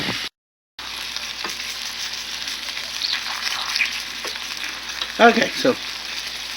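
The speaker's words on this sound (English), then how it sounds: "my onions are still cooking" Onions and lamb chops frying in a pan, giving a steady close sizzle with brief utensil clatters and stirring noises, after a momentary dropout at the start; a voice speaks briefly.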